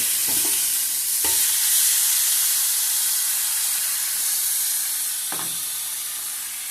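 Pork steaks sizzle steadily on an Ozark Trail griddle, a broad continuous hiss with a few brief scraping stirs, loud and close with no voices.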